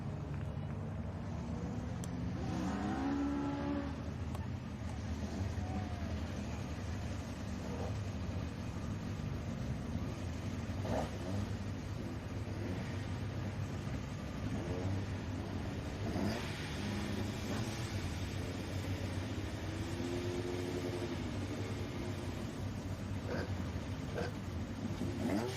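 Racing cars at the Lydden Legend Festival rumble and rev steadily at a distance, engines droning and rising in waves as they pull out, a continuous low motor wash with no talk.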